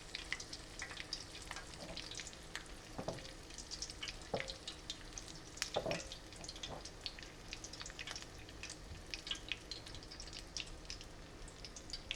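Steady, crackling sizzle of chicken deep frying fully submerged in hot oil, with scattered pops and spits throughout and no voices.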